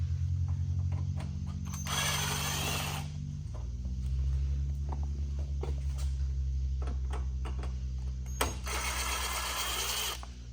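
T15 Torx screws come out of a Jeep TJ headlight bezel. Two short, loud whirring bursts of a driver sound over a continuous low hum, with scattered small clicks and taps between them.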